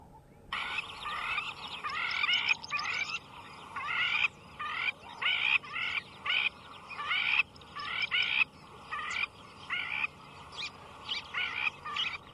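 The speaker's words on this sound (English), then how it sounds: "They've got this fantastic, another quintessential African bird call." A loud, rhythmic bird call repeated in bursts, a series of raucous phrases with short pauses, alone with no talking.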